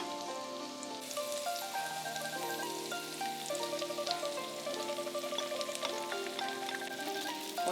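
An egg frying in boiling oil for Chinese home-cooked big dumplings, giving a steady crackling sizzle with dense pops under a faint layered tonal background.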